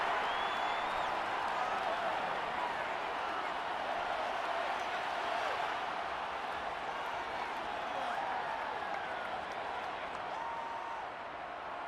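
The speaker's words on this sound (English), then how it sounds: "Plenty of shouts from this crowd as they watch the replay." A stadium crowd in Madden 23, Buccaneers versus Saints, keeps up a steady roar of shouts and cheering throughout, dense and distant, with no individual voices standing out.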